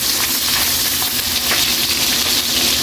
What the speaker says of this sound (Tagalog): Pwede na Kaylee, lagay na natin ang ating bawang at sibuyas. Pagsama-samahin na natin para hindi magtatampo ang ating mga ingredients